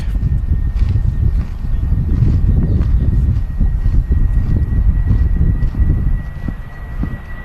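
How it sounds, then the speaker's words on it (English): British Airways Airbus A319 airliner departing Manchester Airport for London Gatwick, a low rumbling engine drone heard at a distance with uneven, fluttering pulses and a faint steady whine above it. "British Airways A319, I think it was, off to London Gatwick."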